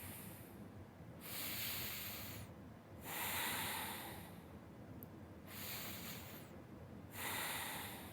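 Slow, deep breaths during a breathing exercise, with long airy exhales and inhales alternating in a steady rhythm, close and soft with no talking.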